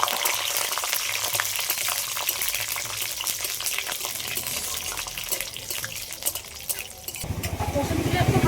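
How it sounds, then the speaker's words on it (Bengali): Peeled garlic cloves fry in hot oil alongside a dried red chilli and five-spice seeds, a soft, close crackle and sizzle that swells into a louder spatter near the end. "রসুনের কোয়াগুলো দিয়ে দিচ্ছি।"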